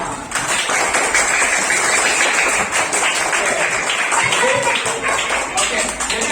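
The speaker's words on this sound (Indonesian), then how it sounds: "tepuk tangan dulu untuk kita semua" Classroom applause for everyone in an Indonesian school lesson: sustained, dense clapping from a group of students, loud and continuous, mixed with voices talking over it.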